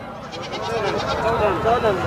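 Sheep at a livestock market in Dera Ghazi Khan bleat in wavering calls mixed into busy crowd chatter, with people talking loudly over the animals throughout.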